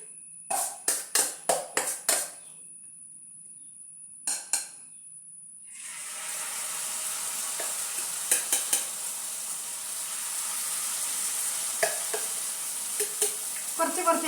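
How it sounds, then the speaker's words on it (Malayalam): Jackfruit cutlets deep-frying in hot oil give off a steady, loud sizzling hiss that swells after several sharp clatters and taps at the start, with occasional clinks as more pieces are dropped in. "ഇനി ബാക്കിയുള്ളതും കൂടി നമുക്ക് ഇതുപോലെ ഫ്രൈ ചെയ്യാം"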